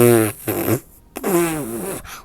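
Two long fart noises, drawn out and wavering in pitch, sound loud and close in a Thai comedy skit set in a toilet. A short gap separates them, and they may be voiced imitations.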